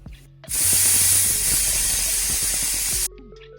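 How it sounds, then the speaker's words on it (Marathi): A pressure cooker venting in a home kitchen: a loud, steady rush of steam hisses for about two and a half seconds, then cuts off abruptly, with faint kitchen sounds before and after. "कुकरच्या शिट्ट्या होत आहेत"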